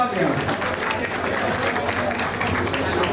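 Loud, dense applause from an audience at a creator event in Kichha, Uttarakhand, after a young team's performance, continuous clapping with crowd noise and a voice speaking over it.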